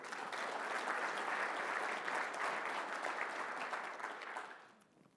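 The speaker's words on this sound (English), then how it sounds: "please give them a round of applause" Sustained applause from a conference audience thanking event sponsors, a steady wash of many hands clapping at moderate volume that tapers off in the final second.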